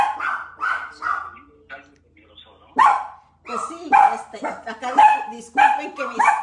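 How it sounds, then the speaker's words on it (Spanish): Small pet dogs at a house bark and yip excitedly at a newly arrived visitor in repeated close, loud bursts, mixed with a person talking. "disculpen que mis perritos están excitados porque alguien llegó aquí a la casa"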